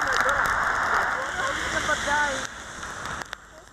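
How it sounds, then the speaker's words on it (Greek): Torrential winter rain falls steadily across northern Crete, a dense continuous hiss with a voice speaking over it, easing off somewhat toward the end. "με καταρακτώδεις βροχές στο βόρειο μέτωπο"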